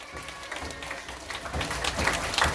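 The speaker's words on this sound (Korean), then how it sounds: "박수." Children at an elementary Sunday school worship service applaud a prize winner, scattered clapping that starts thin and swells denser and louder toward the end.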